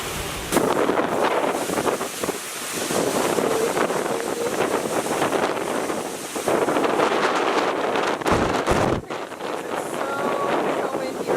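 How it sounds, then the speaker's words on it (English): Strong wind ahead of Hurricane Lane roars steadily across the Maui coast, pounding the microphone with dense, loud gusts and a low rumble that barely lets up. "It's so windy right now, and the hurricane hasn't even gotten that close to Maui yet."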